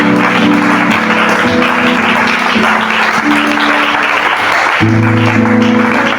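A church congregation applauds and cheers loudly and steadily, with dense sustained clapping, voices and a held musical tone underneath, close and filling the space throughout.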